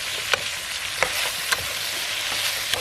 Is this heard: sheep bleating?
no